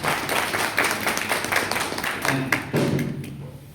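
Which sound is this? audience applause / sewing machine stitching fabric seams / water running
audience applause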